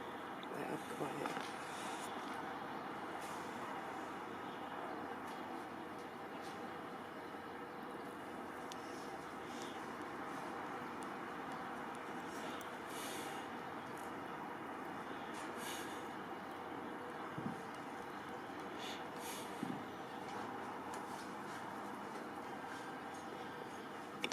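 Train pulling slowly into the station at Nairn, a steady low rumble with faint squeals and air-brake hisses, heard from the platform at a distance, continuous throughout with occasional quiet voices nearby.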